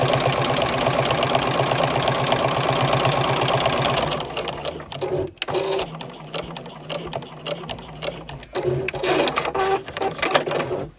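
A sewing machine runs steadily as it stitches small fabric scraps together, a fast even mechanical rattle for about four seconds, then slower, uneven bursts of stitching with pauses.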